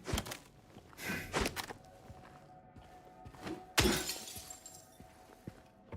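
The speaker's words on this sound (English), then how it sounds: "And they break all your glass." Glass shatters in the video game Silent Hill 2: two sharp crashing bursts, one early and a louder one later, mixed with dull thuds and footsteps in a quiet, eerie room.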